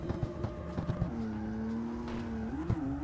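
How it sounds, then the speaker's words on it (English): Car drifting in CarX Street, with a steady engine drone and a long tire squeal that holds and wavers. There are a few short knocks near the start. "I'm getting the hang of this drifting stuff"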